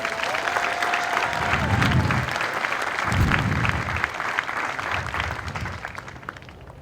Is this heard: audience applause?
yes